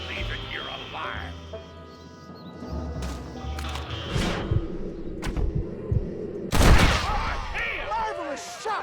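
Gunshots in the Western video game Red Dead Redemption, several sharp cracks scattered over a low hum, ending in a louder close burst of fire.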